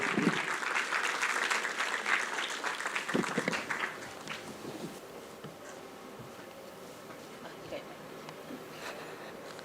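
Audience applause and cheering welcoming a speaker at the Karnival Cinta Malaysia ceremony, loud dense clapping for about four seconds that then thins and fades into quieter room sound.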